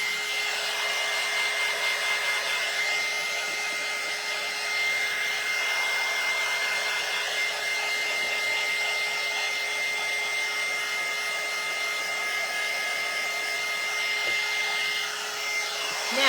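Hair dryer blowing steadily on a handmade St. Patrick's Day craft mailbox, a loud continuous whir holding nearly unchanged for the whole stretch with no talking.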